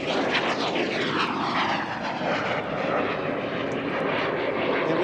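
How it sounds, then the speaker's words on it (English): A twin-jet trainer aircraft flies past at the 2006 Kemble Airshow, a loud, continuous jet roar whose pitch sweeps downward as it passes, with no voices. "this aircraft does have 2 jet engines"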